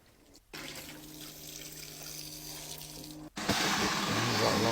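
Water rinses down a hot tub after it has been sprayed with shell cleaner and scrubbed, first as a steady close hose flow with a low hum, then as a louder, harsher gush of spray.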